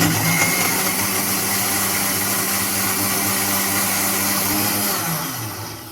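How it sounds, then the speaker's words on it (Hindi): An electric blender whirs loudly and steadily, churning Oreo biscuits, vanilla milkshake ingredients and chopped almonds for several seconds before winding down at the end. "अब हम इसे 1 मिनट के लिए अच्छे से ब्लेंड करेंगे।"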